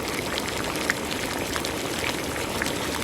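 Pot of water coming to a boil for dry ginger coffee, a steady close bubbling and hiss with small pops throughout and no voices.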